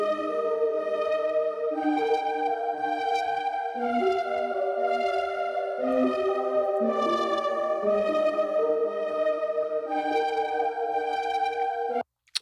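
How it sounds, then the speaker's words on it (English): Layered synthesizers from a pop track's second chorus play together as a dense, bright, sustained chordal wash with shifting harmonies, steady and loud, cutting off abruptly at the end. "So all of those synths together in that second chorus sound like this."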